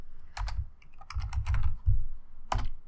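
Keystrokes on a computer keyboard during Photoshop work, heard as a few scattered clicks in short bursts, close and fairly quiet with no talking.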